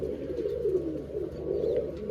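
A pigeon coos in a low, soft, continuous murmur close to the microphone.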